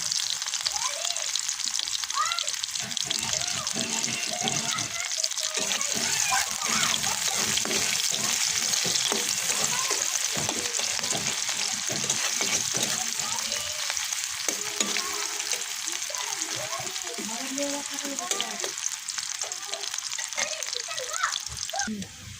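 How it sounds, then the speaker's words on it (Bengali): Onions frying in oil in a pan for lentil mash, a continuous dense crackling sizzle heard up close for over twenty seconds with faint stirring underneath. "এই তো পেঁয়াজ ভাজা হচ্ছে"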